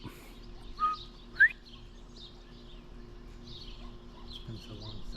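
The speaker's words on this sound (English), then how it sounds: "It's been so long since I heard a quail" A quail calls outdoors, two short chirping notes near the start standing out against a quiet rural background with steady low hum, the rest of the clip carrying only faint ambient noise.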